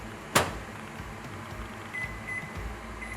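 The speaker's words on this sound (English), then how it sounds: "I am actually going to microwave it to melt it" A microwave oven runs on low power to melt butter and chocolate, making a steady mechanical hum. A few faint high beeps sound near the end.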